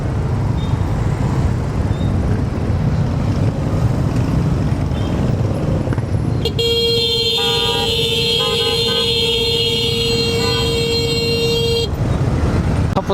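Monday evening street traffic jam with a steady engine drone, broken by a long sustained car horn blast of several seconds partway through, plus brief shorter toots.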